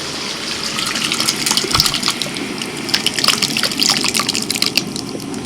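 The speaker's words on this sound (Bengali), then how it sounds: "এবার সিদ্ধ করা ডাল ঢেলে দিচ্ছি" Boiled lentils (dal) poured into a cooking pot while cooking for a 40-person wedding order, heard as a steady, wet gushing pour that runs the whole time with no voices.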